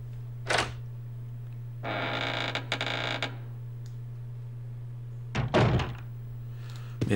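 A door opens in the game Resident Evil Code Veronica X with a creak and a heavy thunk, followed by a short dull mechanical rumble and further clunks, all heard alone over a steady low hum.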